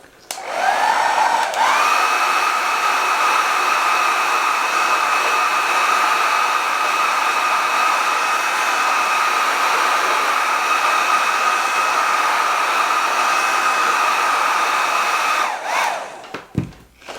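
A heat gun blows a loud, steady whirring hiss while warming vinyl wrap on a motorcycle panel, starting with a quick spin-up and running unbroken for about fifteen seconds before shutting off with a brief clatter.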